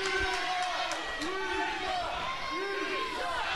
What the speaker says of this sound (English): The crowd chanting, "You suck."